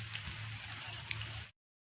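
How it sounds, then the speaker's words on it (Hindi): Heavy rain falls outdoors near a cave, a dense steady patter that stays even, then cuts off abruptly partway through. "रास्ते में बारिश हो रही है बहुत तेज"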